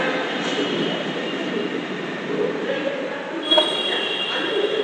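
Steady rumbling run of a Bangalore–Mysore city metro train heard from inside, a continuous rail roar with a brief louder clatter partway through and faint talk in the background.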